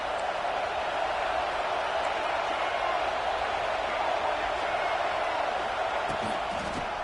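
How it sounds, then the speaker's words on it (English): A football stadium crowd produces a dense, steady roar of noise that holds at an even level throughout, broad and continuous with no distinct voices standing out. "This crowd bringing the energy and noise early"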